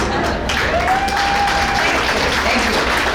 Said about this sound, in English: That's worthy of a little shameless applause.